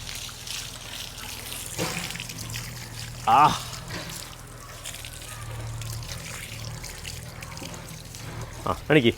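Water sprayed over a buffalo during bathing makes a steady, close hiss that runs through the whole stretch, with a few short louder splashy bursts standing out.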